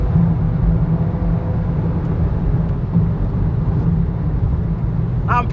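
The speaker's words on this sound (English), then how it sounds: "Wind noise is really high now. We're doing high speeds, tire noise as well" Steady roar of wind and tire noise inside a 2023 Volkswagen Golf R Mk8 at high speed, a constant low rumble with no talking.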